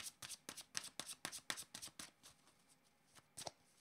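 A deck of cards is shuffled close by in rapid crisp riffles, a quick string of papery flicks that thins out toward the end, quiet and alone.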